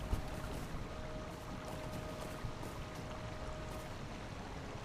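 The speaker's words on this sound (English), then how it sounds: "And then here's a little hidden waterfall." A small hidden waterfall in the game LOTRO gives a steady, even rush of falling water, a soft continuous wash with no voices.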